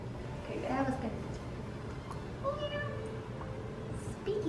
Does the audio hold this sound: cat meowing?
yes